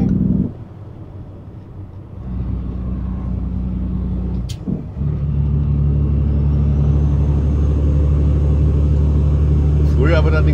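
A truck, driven by Mario, rolls along the road on the way to Monken, its engine a steady loud low rumble inside the cab with a brief dip around the middle and a faint clatter near the end, no talk.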